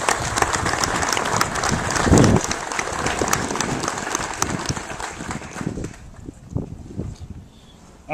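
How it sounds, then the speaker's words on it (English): A crowd at a state park grand reopening ceremony at Johnson's Shut-Ins applauds the park staff, a loud, dense burst of clapping that holds for several seconds before thinning and fading toward the end. "let's give them a round of applause as well"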